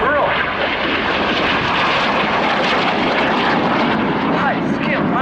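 An aircraft pulls up into a giant loop at the RIAT airshow, its engine a loud, steady roar throughout, heard from the ground with a commentator talking over it.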